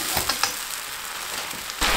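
A hundred millilitres of pasta water splashes into a pan of golden-browned mushrooms and sets off a loud hissing sizzle, with a few sharp pops and a fresh surge of sizzling at the end.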